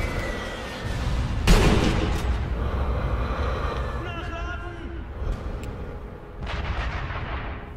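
Heavy gunfire rings out in the video game Sniper Elite V2, booming reports echoing over a rumbling background, with further distant shots trailing off and voices talking over it.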